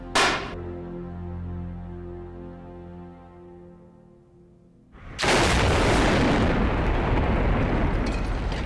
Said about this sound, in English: The sound of the blast will take 4 seconds to reach the bunker.